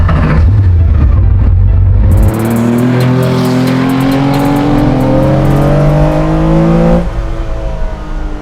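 A track-built 1973 Porsche 911 RSR engine, around 280 to 300 horsepower, revving hard while driving, loud and close with climbing pitch through the gears and a steady roar that eases slightly near the end.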